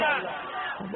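A large gathering at a religious Mawlid celebration shouts a response in unison, a brief loud roar of many voices that fades over about a second.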